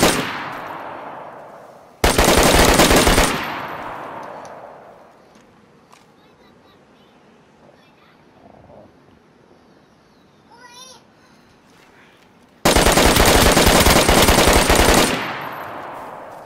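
Two long bursts of rapid automatic gunfire from the video game DayZ, loud and sustained, separated by a quieter stretch with faint background sounds.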